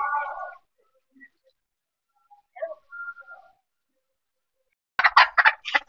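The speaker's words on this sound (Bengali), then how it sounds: "মুরগিটা চেঁচালে কিসের জন্য?" A chicken squawks in short, sparse bursts separated by quiet gaps, ending with a louder, rapid flurry of clucking cries nearby.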